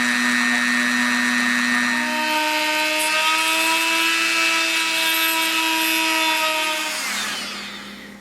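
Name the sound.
drilling a small hole in a coin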